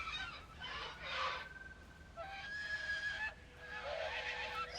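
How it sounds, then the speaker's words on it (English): A creature in the video game Lost Skies squawks and honks in a run of harsh, nasal, goose-like calls, some sustained and whining. The calls are fairly close, with no talk over them. "I can hear you squawking away."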